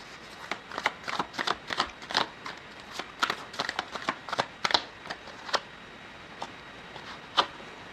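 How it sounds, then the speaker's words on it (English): A deck of tarot cards being shuffled close up, with repeated quick riffling snaps in bursts, then a few scattered flicks. "while I was shuffling the cards"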